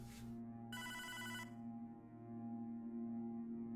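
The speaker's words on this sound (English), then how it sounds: "Maybe I should have answered the phone" A telephone rings in the video game Hotline Miami 2, one short ring burst standing out briefly above a steady droning synth soundtrack.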